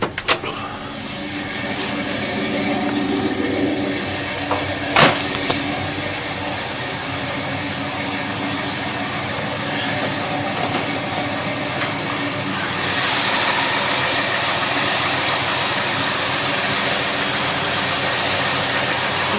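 A Subaru Legacy engine runs steadily with the hood open, a loud continuous mechanical hum and rushing hiss that grows brighter and louder about two-thirds through, with a couple of faint clicks early on.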